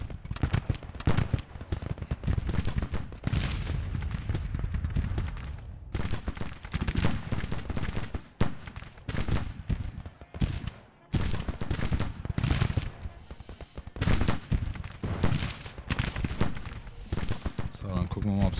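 Rifle volleys and artillery fire crackle and boom through a Bull Run Civil War battle video game, dense bursts of shots arriving in waves with brief lulls, close and loud, while someone talks over them.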